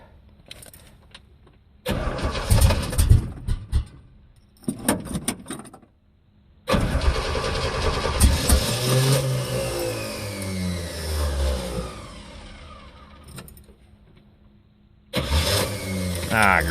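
A carbureted muscle car engine being started after the accelerator is pumped: bursts of cranking, then the engine catches and roars at a loud, close idle for several seconds, dies, and cranks again.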